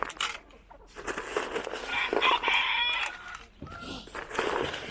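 Backyard chickens cluck and squawk busily while being fed grain, with a rooster crowing amid the flock, close by and fairly loud in an outdoor coop.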